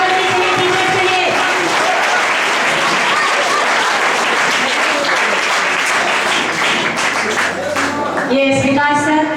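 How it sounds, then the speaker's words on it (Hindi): Loud, dense audience applause for teachers at a school success party, continuous clapping filling the whole stretch, with a voice over the sound system cutting in briefly near the end. "जोरदार तालियां बजनी चाहिए टीचर्स के लिए"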